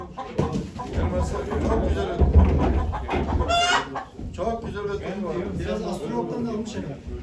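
A rooster crows at a moderate distance at a chicken auction in Ankara, amid steady background chatter and ambient noise, with a clear rising call standing out near the middle.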